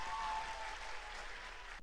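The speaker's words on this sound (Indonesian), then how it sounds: "Yang mau dapat motor tepuk tangan paling kenceng" Concert audience in a hall applauding, loud dense clapping at first, easing slightly but sustained to the end.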